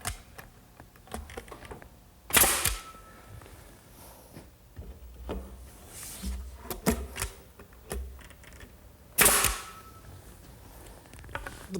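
Wooden backboards are tacked onto an outdoor lidded bench, a single nail per board. Two loud, sharp hammer strikes ring out several seconds apart, with quieter knocks and shuffling handling of the boards in between, and no talking.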